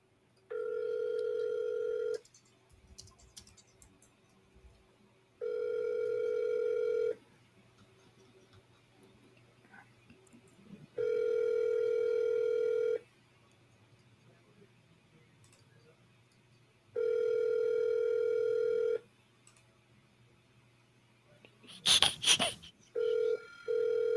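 Telephone ringback tone while placing a call, four evenly spaced tone bursts about two seconds long with quiet gaps between, followed by a brief burst of noise near the end.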